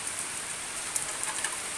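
Rain patters steadily on a surface, a fine hiss with a few brighter drips standing out, with no voices.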